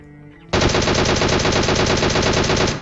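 A DP machine gun in PUBG fires one loud, rapid, unbroken burst of shots lasting a little over two seconds, close and dominant.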